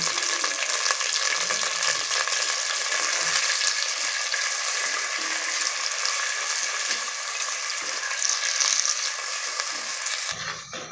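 Prawns fry in oil for prawn curry, a loud, dense, continuous sizzle heard up close and steady throughout, with faint stirring beneath it before it cuts off at the end.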